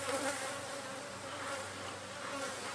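Honeybees buzzing around a queen-rearing hive outdoors, a dense continuous hum of many bees, steady and fairly close, with no talking.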